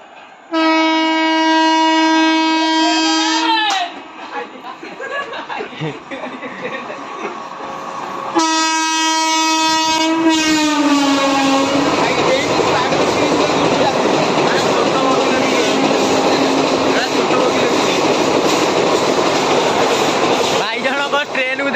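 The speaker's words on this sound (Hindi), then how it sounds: "पाकुआ ट्रेन आइला देख देख देख पाकुआ आइला ट्रेन" The Pakua train arrives, sounding two long, loud horn blasts close by, then a steady rumble and rolling clatter of wagons going past, with voices mixed in.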